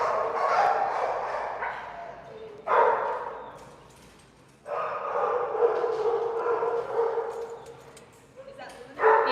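A German Chow Chow mix dog, an owner-surrendered rescue, gives repeated yipping barks and whimpering cries in long close bursts separated by brief pauses, loud and strained, with a person's voice mixed in.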